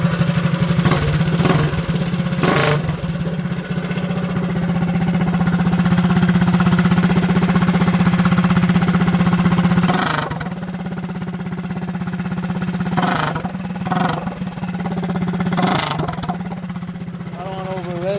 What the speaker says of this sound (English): I'll give y'all a couple little revs, small little revs, y'all,